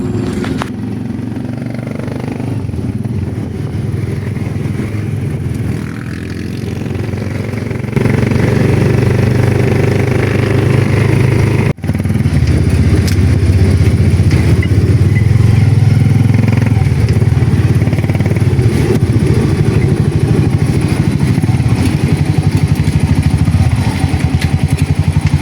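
A new 1 horsepower Maximus water pump motor runs with a continuous loud, clattering drone. It grows louder and steadier partway through and carries on without talk.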